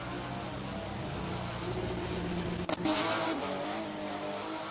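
A Porsche race car in a one-make cup race at the Norisring street circuit rolls into the pit lane, its engine a muffled, steady drone with a brief sharp burst partway through.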